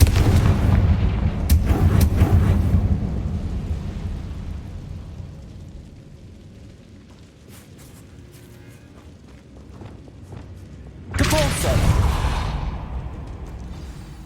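Confringo fire spells blast in the Hogwarts Legacy video game, a burst of booming explosive hits at the start and another loud blast near the end, with quieter rumbling between.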